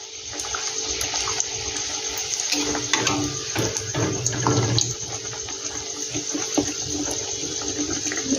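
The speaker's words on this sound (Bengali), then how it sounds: "আমি এটা একটু বেশি তেলেই ভেজে" Veg mughlai fries in plenty of hot oil, a loud, continuous rushing sizzle with occasional crackles and no voices.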